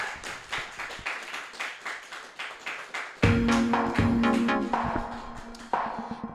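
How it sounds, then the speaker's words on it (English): A live show audience claps, beginning with a few evenly spaced claps that swell into fuller, denser applause partway through. "Yeah, you can clap. You're allowed."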